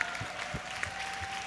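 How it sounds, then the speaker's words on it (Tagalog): Anniversary applause at a prayer group gathering, a faint scatter of hand claps sounding distant and light. "Purihin at palakpakan po natin si Yahweh El Shaddai, yung pong pang-anniversarying palakpak"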